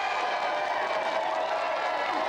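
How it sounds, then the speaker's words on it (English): A crowd applauds with dense, steady clapping that fills the whole moment. "round of applause for our special guest, Ronnie O'Sullivan"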